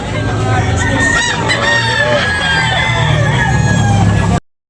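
A rooster crows loudly and close by at a chicken market in Tabunok, Talisay, Cebu, its long calls standing out over clucking fowl and busy market noise.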